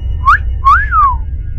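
A cartoon character gives a two-note wolf whistle at an air hostess: a short rising chirp, then a longer swooping note that falls away. It is loud and close over a low background rumble.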